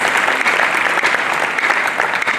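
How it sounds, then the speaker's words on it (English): A round of applause from the audience at an investment and jobs conference in the Northern Cape, dense sustained clapping that fills the room at a steady level, with no voices over it. "Can we give them a nice round of applause?"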